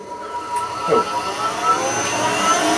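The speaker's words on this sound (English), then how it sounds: "How the compressor starts up, you can't nearly hear it." Sandblaster air compressor running with a loud steady whooshing hum, a brief rising whine near the start, continuous and close throughout.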